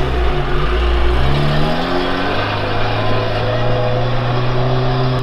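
A Chevrolet Niva on mud-terrain tires without locking differentials, in low range, climbs an off-road hill with its engine loud and close, revving up and holding a rising, strained drone.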